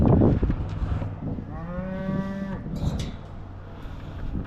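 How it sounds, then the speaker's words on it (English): A farm calf gives a single clear moo in the middle, fairly close, against light wind and outdoor background noise during evening chores. "So we got the 2 calves"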